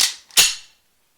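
A Kimar 92 blank pistol loaded with Self Gomm 18mm rounds gives a sharp metallic clack followed by a loud, cracking shot, close and alone, then a quick decay to silence.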